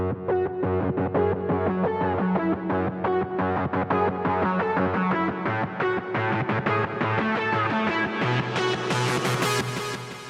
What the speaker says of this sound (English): increasing the dry wet level of a reverb over time over the course of this build-up